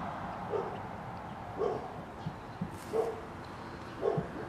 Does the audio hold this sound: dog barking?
yes